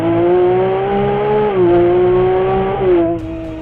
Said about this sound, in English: let's try to make an acceleration and listen to the sound of the